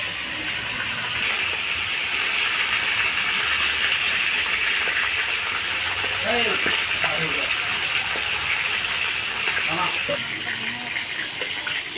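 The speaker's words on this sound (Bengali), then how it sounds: "হালকা করে ভেজে আমি ভেজে নিচ্ছি" Pomfret fish frying lightly in a home kitchen pan for a spicy curry gives a steady, loud sizzling hiss throughout, with brief voices faintly in the background.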